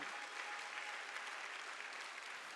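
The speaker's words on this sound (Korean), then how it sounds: "박수 치려면 지금 하려고." A church congregation applauding during a Sunday sermon, even continuous clapping from many hands at moderate distance, fairly quiet overall.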